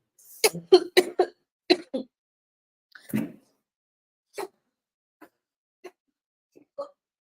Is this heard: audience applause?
no